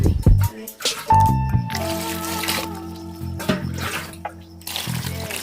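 Mushrooms are rubbed and washed in water by hand, village style, making wet squelches, sloshes and drips close up, broken by intermittent vocal sounds.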